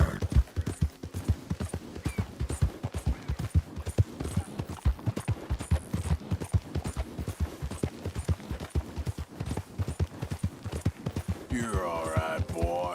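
Horse hooves gallop in steady rapid clip-clop rhythm in the video game Red Dead Redemption 2, loud and continuous throughout, with a short breathy snort near the end.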